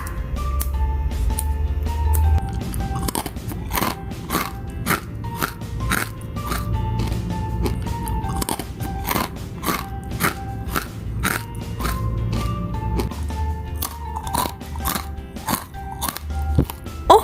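Crisp, loud bites and crunchy chewing of a baked sweet potato snack, close up, with repeated sharp crackling bursts in an irregular rhythm over about seventeen seconds and no talking.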